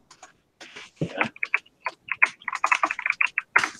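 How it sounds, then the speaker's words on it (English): Fingers type on a computer keyboard: a burst of crisp, close key clicks in an uneven, quickening rhythm, rising out of near silence with no voices. "I was typing and doing the thing at the same time."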